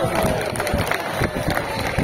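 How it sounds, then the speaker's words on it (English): Brief applause and light cheering rise from a theatre audience at a live bird show, a dense close patter of clapping hands with crowd noise throughout. "give yourself a round of applause"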